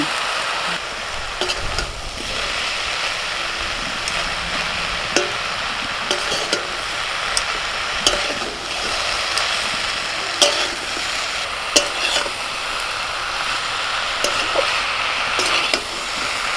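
A spiced fish mixture with ginger paste, cumin, chili and turmeric powder gets stirred in a hot pan, making a continuous sizzle with repeated scraping strokes and occasional clanks of the utensil against metal.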